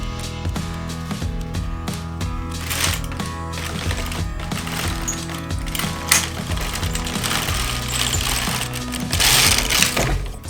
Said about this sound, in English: it's time to place all of my stitches of my cardigan onto my knitting machine, where I will continue to work it up